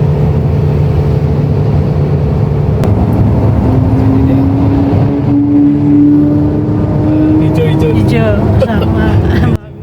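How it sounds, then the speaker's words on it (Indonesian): Loud, sustained engine and exhaust roar from passing Lamborghinis, a droning rumble with rising and falling pitch that fills the clip, heard from inside a travelling vehicle with voices in the background. "Wow, suara knalpotnya"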